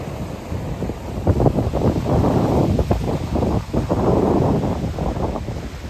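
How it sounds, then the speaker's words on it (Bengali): Strong wind blows at the seaside at Cabo Polonio, buffeting the microphone with a continuous loud roar and rising gusts, and no one speaks. "প্রচন্ড হাওয়া দিচ্ছে।"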